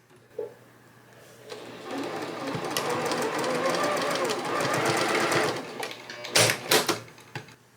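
Stitching a quarter-inch seam on quilt blocks, a domestic sewing machine starts up and hums in a fast, rhythmic needle patter for several seconds, then slows and stops with a few short bursts and clicks, close and fairly loud.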